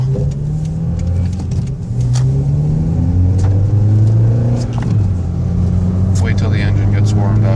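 A Toyota with TRD parts drives along, its engine rumbling and rising in pitch as it revs through gears, with someone talking over the steady interior road noise.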